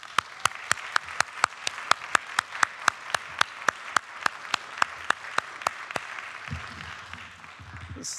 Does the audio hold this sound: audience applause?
yes